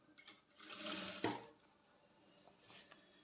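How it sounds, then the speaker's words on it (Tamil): A sewing machine stitches a pleated maxi skirt in a short, faint run that stops abruptly with a click, then quiet. "நான் மார்க் பண்ணி தான் தைக்கிறேன்."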